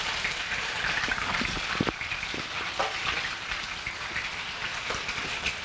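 Three fish frying in a skillet for a Jamaican dinner, a steady close sizzle and spatter like rain with occasional sharper pops.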